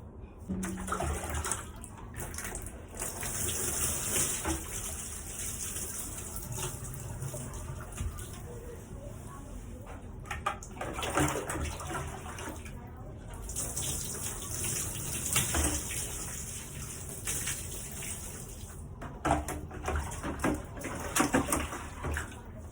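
Water runs continuously from a tap while hair is rinsed and washed, a soft steady gushing with splashes and handling noises, fairly quiet and close, with a voice heard faintly at times.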